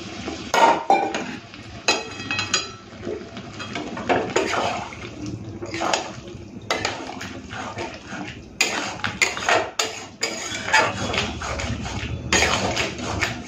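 Chicken and soybean curry being stirred in a pan after warm water is added, with clattering spoon-on-pan scrapes and watery sloshing in irregular bursts, while a voice talks over it.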